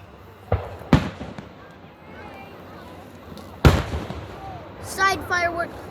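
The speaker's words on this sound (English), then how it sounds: "Side firework." Fireworks bursting outdoors at a night display: two sharp, loud booms a few seconds apart over a low background rumble, with excited voices chattering and cheering between and after the blasts.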